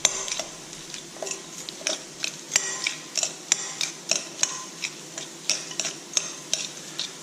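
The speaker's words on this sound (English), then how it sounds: "Take that, get our fork, spoon, give it a nice toss." A fork and spoon toss a creamy bacon blue cheese salad in a bowl, making a rhythmic series of light clinks and scrapes, close and without talk.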